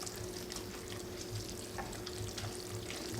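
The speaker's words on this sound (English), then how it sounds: "let your milk warm up just a little bit, and then we're just going to stir and stir" Macaroni and cheese being stirred with warm milk in a pot, a quiet close-up wet scraping and swishing with a low steady background hum and no talking.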